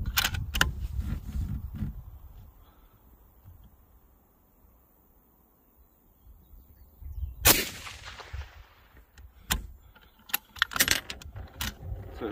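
Rifle shots fired with copper E-tip ammunition at a shooting range: a loud sharp crack stands out near the middle, followed by several further sharp transients and clatter, recorded close.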